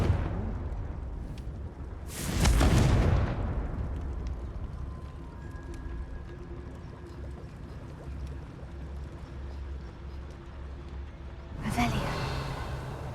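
A Confringo blasting spell from the video game Hogwarts Legacy bursts out as a loud, booming explosion, followed by a lingering rumble and a second, softer blast near the end.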